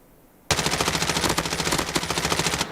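A rapid, loud burst of automatic gunfire in the mobile shooter Call of Duty Mobile bursts in abruptly and hammers continuously for about two seconds before cutting off, with no speech over it.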